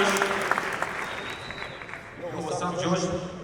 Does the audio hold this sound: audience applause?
yes